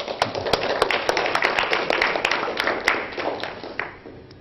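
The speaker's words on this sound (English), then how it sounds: "so if we can give him a round of applause." A lecture audience at Oxford breaks into a round of applause, a dense patter of many hands clapping steadily at moderate volume with a few sharper claps standing out, all on its own.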